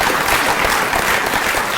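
An audience at a 2016 conference's closing remarks gives the invited speakers another round of applause, a brief, loud, dense burst of many hands clapping evenly throughout, with no talk over it.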